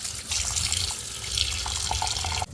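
Water poured from a tap over beef pieces with rock salt in a kitchen sink, a steady close splashing gush that shifts in tone as the bowl fills, ending with a brief knock, no talk.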